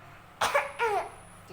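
A child gives two short, sharp coughs in quick succession, close and fairly clear against a quiet indoor background.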